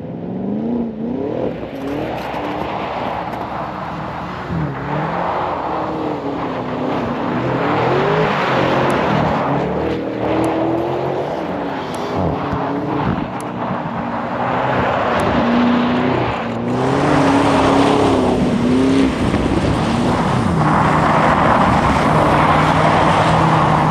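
Lamborghini supercars run laps on a cold ice track in Canada, their engines revving and surging continuously for over twenty seconds, with pitch rising and falling as they accelerate and pass at moderate distance, no talk.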